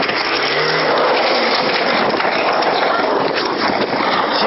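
A car nearby drives off and accelerates, its engine roaring steadily with a brief tire squeal.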